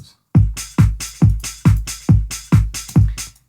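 Drum loop playing back in a music mix, a steady pattern of punchy kick-and-snare hits with bright cymbal wash, about eight strong beats at a moderate tempo, loud and with no talking.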